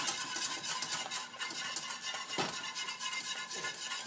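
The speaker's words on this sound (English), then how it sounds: "Alright, so keep on stirring, keep on stirring. I'm just going to bring it up to a boil. Just whisking away." A whisk keeps working through Gujarati kadhi in a pot as it heads toward a boil, a continuous scraping, swishing stir with rhythmic metallic strokes and soft sizzling underneath.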